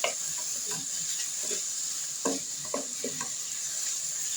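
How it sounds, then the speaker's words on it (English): Vegetables sizzle softly in a pan while a utensil stirs them, giving a steady frying hiss broken by irregular clicks and scrapes. "And to let these stir fry for a little."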